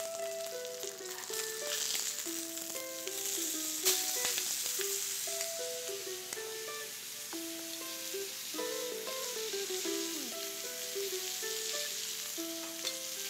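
Steak sears in a hot pan, giving a steady crackling sizzle that runs unbroken throughout under quiet background music, with no voices.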